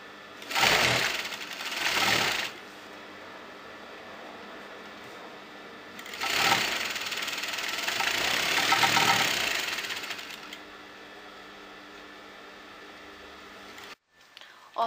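A sewing machine stitches the folded hem of a churidar in short bursts: two quick runs, then a longer steady whirring stretch, before falling quiet.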